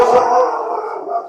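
A pet dog indoors at home gives a single drawn-out howling bark, close and loud, trailing off over about a second with no talk over it.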